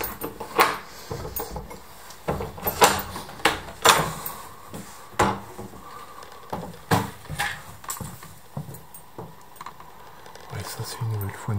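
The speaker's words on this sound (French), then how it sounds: "Je n'arrive même pas à ouvrir cette porte." Someone strains to force open a stuck wooden door inside an abandoned house, making a string of sharp knocks, bumps and rattles at an irregular rhythm, close by, with a voice speaking between the impacts.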